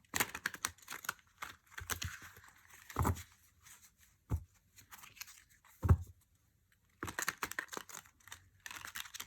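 A new tarot deck of stiff, non-bendable cardstock being shuffled, with bursts of quick card riffles and taps separated by short pauses, close and fairly quiet.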